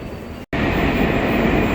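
A Moscow metro train rumbles loudly and close with a dense, steady roar, broken by a brief silent cut near the start.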